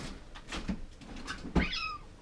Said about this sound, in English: she makes like this big dramatic meow.